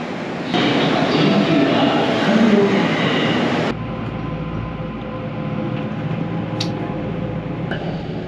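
A Kintetsu express train bound for Matsusaka at a station platform, a loud rumbling run that drops abruptly to a quieter steady hum with faint clicks and a brief squeal.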